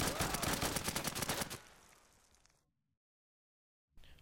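Rapid gunfire from hip-firing a weapon in the video game Insurgency, a dense burst of shots for about a second and a half that fades into a tail, then silence.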